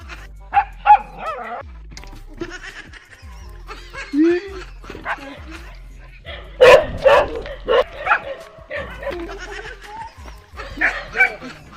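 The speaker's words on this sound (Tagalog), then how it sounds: "Aso." A dog barks and yips repeatedly in irregular bursts, with a whimpering note and some laughter mixed in nearby.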